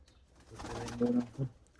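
A pigeon's low, throaty coo rolling out close by, rising into a couple of soft hooting pulses before fading.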